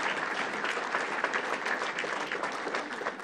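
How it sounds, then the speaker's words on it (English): Steady, dense applause from a crowd, many hands clapping continuously at an even loudness throughout. "Let's give them all a round of applause"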